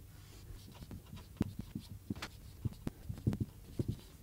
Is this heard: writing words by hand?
yes